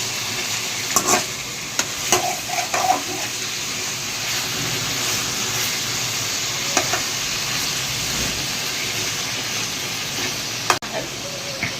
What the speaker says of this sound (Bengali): মাংসগুলোকে কিন্তু তেলের সঙ্গে ভালো করে নাড়িয়ে চালিয়ে নেওয়া হচ্ছে